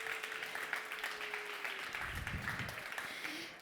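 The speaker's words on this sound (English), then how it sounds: "please give him a huge applause to Brömmelstroet." Steady clapping from a crowd, a dense continuous patter of many hands that carries on throughout without letting up.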